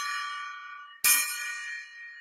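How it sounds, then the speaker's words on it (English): A golden gong is struck: a bright ringing tone already decaying, then one sharp new strike that rings out and fades, with the start of another hit at the very end. "we have a tradition where we ring the golden gong"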